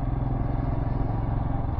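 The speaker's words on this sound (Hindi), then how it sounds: "बीच में मैं रोड पर चल रहा है बाइक अपनी, हिमालयन" A Royal Enfield Himalayan motorcycle rides along a mountain road in Uttarakhand, its engine a steady, close, throbbing drone with no break.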